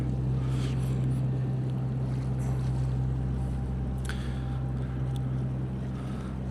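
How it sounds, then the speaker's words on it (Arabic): Ships in a harbour in Australia give a constant low engine drone that holds steady throughout, with wind noise buffeting the microphone over it. "انتوا سامعين صوت السفن"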